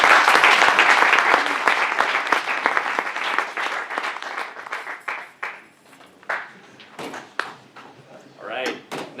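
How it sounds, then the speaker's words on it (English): Audience applause for student government candidates at a campus election forum, loud dense clapping that thins out into scattered individual claps and fades over several seconds. "Give a round of applause for our candidates."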